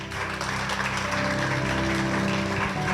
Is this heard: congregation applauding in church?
yes